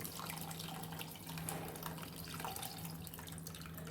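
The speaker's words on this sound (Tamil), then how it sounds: "நம்ம கரைச்சி வச்சுருக்க புளி தண்ணி ஊற்றிக்கலாம்." Tamarind water pours steadily into a pot for a few seconds, a soft continuous splashing trickle with a low background hum and no voices.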